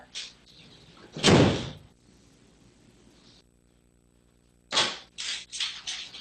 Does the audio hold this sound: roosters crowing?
no